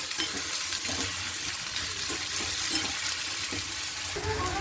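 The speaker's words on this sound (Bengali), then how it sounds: "পেঁয়াজ আর আলুটা একটু ভাজাভাজি করি" Onion and potato frying in hot oil in a home kitchen, a continuous close sizzle with periodic scraping strokes of stirring, heard alone without talk.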